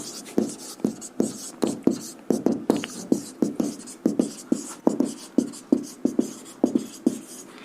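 Chalk or marker strokes writing digits on a classroom board during a number-system lesson, a steady series of short tapping and scratching strokes, close and clear, with no talking.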